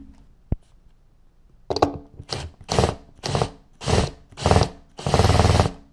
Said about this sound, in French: quand tu vas venir frapper ici, ton tournevis va tourner d'un quart de tour pour pouvoir ensuite dévisser ta vis